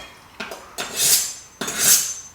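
A knife cuts through onions on a chopping board, giving two separate crisp slicing strokes with a dull knock at the start of each. Both are close and clear, and no one speaks.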